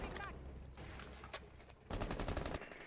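Rapid gunfire bursts from the tactical shooter video game Rainbow Six Siege, with a short volley early on and a denser, louder burst near the end over steady game background noise.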